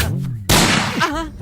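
A single sharp gunshot cracks out in a Telugu comedy movie scene, a sudden loud broadband blast cutting in after a line of dialogue, followed by more shouted speech as it fades.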